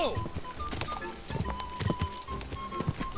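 Horse hooves clip-clopping at speed during a race in the video game Kingdom Come Deliverance II, a steady rhythmic beat of fairly close impacts with game sounds and voices around it.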